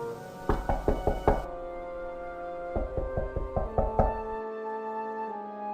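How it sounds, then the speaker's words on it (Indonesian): Knocking on a door in two separate bursts of several sharp raps each, close and distinct, against a quiet background. "terdengar ketukan pintu serta salam"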